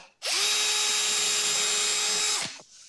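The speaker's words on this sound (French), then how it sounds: "que je vais pré-percer et visser en pression ici" A power drill pre-drills into wood: one continuous high whine held for about two seconds, close and loud, before winding down.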